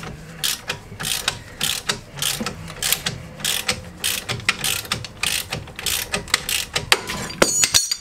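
A BGS extendable ratchet tightens a suspension part on a Peugeot 407/508 or Citroën C5 front axle, giving a long run of rapid, close pawl clicks in quick bursts that grow denser toward the end.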